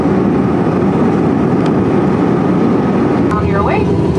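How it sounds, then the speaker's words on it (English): Steady, loud roar of airplane cabin noise from the engines and airflow filling the whole stretch, with a faint chime and brief voice fragments in the background. "We are on the airplane."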